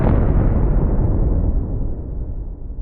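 Huge, loud explosion of the Vredefort meteorite impact: a deep booming rumble starts at full force and slowly rolls off over about three seconds, with no voices.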